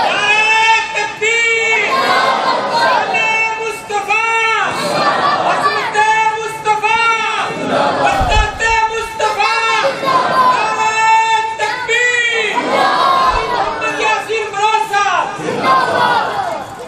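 A large crowd at a religious gathering chanting slogans in loud rhythmic unison, voices swelling and repeating steadily for the whole stretch, dense and close with a leader's voice mixed in.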